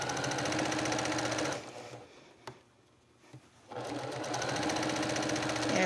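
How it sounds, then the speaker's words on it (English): A sewing machine stitches quilt sashing strips with a steady, close, rapid mechanical whir. It stops briefly, with a couple of faint clicks, then starts again at the same even pace. "Now I just sewed over that pin"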